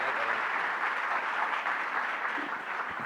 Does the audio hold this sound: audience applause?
yes